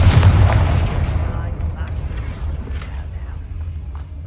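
Confringo fire spell blasting in the Hogwarts Legacy video game, a single heavy booming impact at the start that rolls off into a fading rumble.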